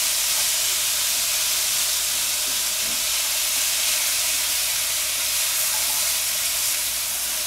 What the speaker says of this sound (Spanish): Vamos a seguir salteando esto.